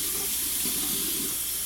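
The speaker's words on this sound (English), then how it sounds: "Rinse with cold water." Cold tap water runs over food being rinsed in a kitchen sink while cooking tacos, a close, steady hissing splash heard alone for a brief moment.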